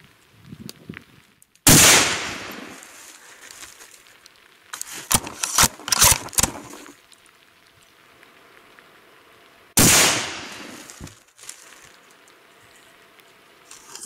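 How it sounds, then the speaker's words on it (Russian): A Tikka T3x Lite .308 rifle with a night scope fires Czech cartridges outdoors. Two sharp, loud shots land several seconds apart, each trailing off in a rolling echo, with scattered clicks and rattles between them. "стреляем чешским патроном"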